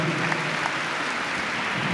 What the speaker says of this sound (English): Can we have a huge round of applause for this talented, crazy, amazing singer?